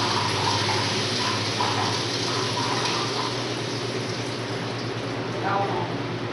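A commercial kitchen machine rinses itself with water after draining, giving a steady, loud gush of running water throughout, with faint background murmur mixed in.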